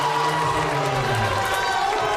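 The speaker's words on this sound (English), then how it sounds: "Men's soccer team has come alive in the crowd here tonight, trying to get their Rustler classmates cheered on" Men's soccer team cheering and shouting from the stands at a college volleyball match, a steady dense crowd roar with raised voices throughout.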